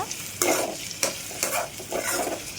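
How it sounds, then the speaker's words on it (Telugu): Cumin, mustard seeds, chopped onions, green chilies and curry leaves fry in a pan, with a steady close sizzle broken by repeated stirring scrapes about every half second. No one talks. "జీలకర్ర, ఆవాలు, అలాగే మనం కట్ చేసి పెట్టుకున్న ఆనియన్స్, పచ్చిమిర్చి, కొంచెం కరివేపాకు వేసి లైట్గా గోల్డెన్ కలర్ వచ్చేంత వరకు ఫ్రై చేసుకోవాలన్నమాట"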